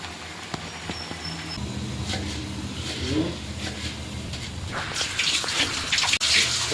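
Water poured into a pan of simmering Odia-style sila fish curry, a close splashing and bubbling that builds louder toward the end, with a brief low voice in the background.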